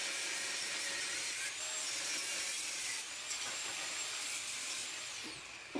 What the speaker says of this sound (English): I'm using my angle grinder to cut everything here